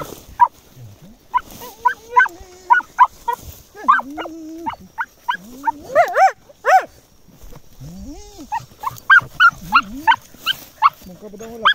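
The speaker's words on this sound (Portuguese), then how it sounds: "cachorro dentro do buraco chamando" A hunting dog barks from inside a burrow in repeated, slightly muffled bursts in an irregular rhythm, with a voice calling out between the barks.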